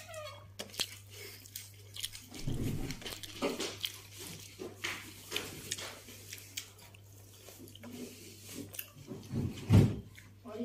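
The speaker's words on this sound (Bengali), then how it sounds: "এখন আমি খাচ্ছি পেঁয়াজ কলি দিয়ে" Fish roe with spring onion greens being eaten up close: wet, squishy chewing and bites recur through the clip over a steady low hum, with brief vocal sounds now and then.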